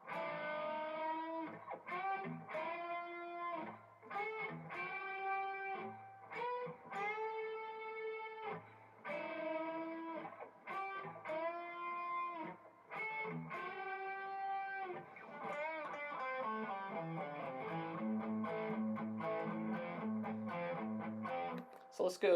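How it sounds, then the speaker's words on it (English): A rock electric guitar solo, with quick picked notes and bends over a steady chordal backing, played at a moderate level with no talking. "In the beginning riff, we have a little guitar solo."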